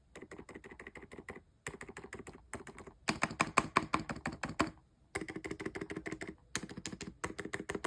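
Close-up typing on a Gamakay TK75 V2 keyboard fitted with silent switches and cherry-profile PBT keycaps, a steady run of soft, muffled keystrokes in bursts with brief pauses, no talking.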